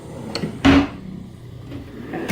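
A single bathroom drawer slides open with a short wooden rumble and clunk, followed by light rattling of items inside, close by and otherwise quiet.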